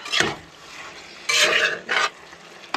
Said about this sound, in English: we're gonna put more cumin, more salt, a little bit of the chili powder, mix that all up